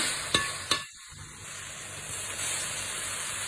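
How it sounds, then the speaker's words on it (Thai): Pork sizzles and hisses in a hot pan as it is stir-fried, opening with two sharp clatters of utensils, then a brief lull before a steady, close frying hiss builds and continues. "ใส่หมูลงไปเลยจ้าหมูให้สุกก่อน"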